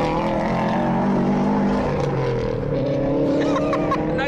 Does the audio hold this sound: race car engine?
yes